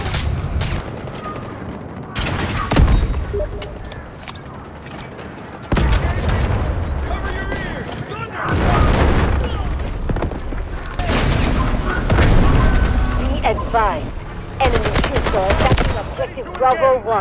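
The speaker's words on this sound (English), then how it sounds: "Artillery barrage incoming." An artillery barrage thunders through a Delta Force battle: repeated heavy booms and bursts of gunfire crowd together, loud and close, with brief lulls between waves, and game voices call out over the din.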